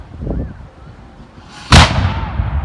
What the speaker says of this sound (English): gun we're gonna fire is a light 3-pounder.